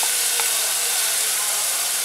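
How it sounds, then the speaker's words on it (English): Urad dal, channa dal and cashews sauté in a hot oiled pan, a loud, steady, bright sizzle with faint crackles near the start and no talk. "I'm gonna saute these till the urad dal and channa dal turns color."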